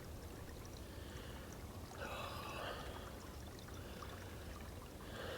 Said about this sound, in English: With the sound of that water running right behind me here